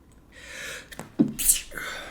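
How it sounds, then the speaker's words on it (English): A single sudden sneeze from a man, close and loud, preceded by a brief sharp intake of breath. "I gotta sneeze."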